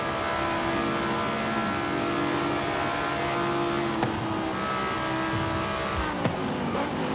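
A car with an upgraded exhaust revs loudly in Forza Horizon 5, a constant dense engine roar with shifting pitch and a couple of sharp changes near the end.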